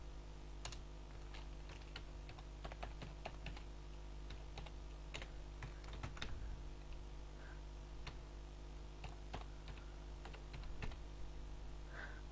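Computer keyboard typing, quick irregular clicks scattered across a quiet background, close and fairly soft, with no speech.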